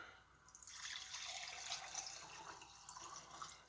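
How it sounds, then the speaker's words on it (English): Denatured alcohol, used for gelled camp fuel, is poured into a container in a steady, quiet stream with a soft splashing trickle that lasts throughout. "I'm going to do the denatured alcohol at the moment. Just pour it in."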